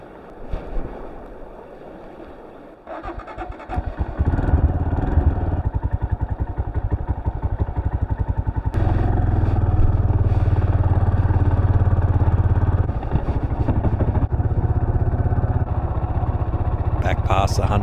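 A motorcycle rides a high-country dirt track, its engine droning steadily and loudly up close while wind buffets throughout, rising in intensity partway through.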